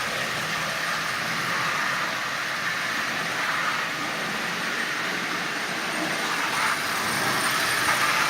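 A Marx micro motor runs inside a toy Santa Fe locomotive shell, giving a continuous whirring, rattling buzz at an even, moderate level with faint clicking texture and no voices.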